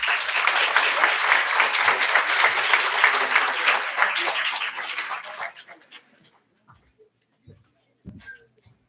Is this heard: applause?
yes